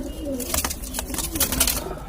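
A pair of pigeons in a coop coo softly and repeatedly in low rolling tones, close by, mixed with rustling and scratchy noises.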